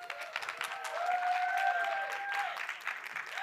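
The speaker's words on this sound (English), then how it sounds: "please give her a massive round of applause." Audience applause at a COP28 session hosted on stage, a steady wash of clapping from a crowd, moderately loud and sustained with faint voices mixed in.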